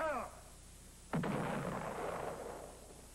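After a shouted command, a single cannon shot booms out loud, its heavy blast rolling into a long fading rumble.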